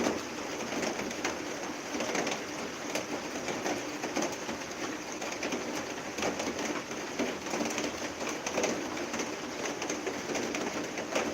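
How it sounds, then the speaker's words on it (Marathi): Heavy monsoon rain pours steadily near the Kalu river in Titwala, a broad continuous wash of noise with pigeons cooing faintly beneath it, no voices. "खूब सारा पाउस पड़ रहा है"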